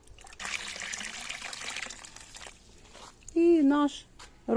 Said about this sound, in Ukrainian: І добираємо до повного відра водою.